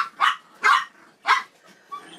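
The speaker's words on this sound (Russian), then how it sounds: "вот такой вот крик получается, когда она начинает охранять своих детишек." A chihuahua mother guarding her newborn puppies on a bed lets out three sharp, loud barks in quick succession, followed by a fainter fourth yip, with no talk over them.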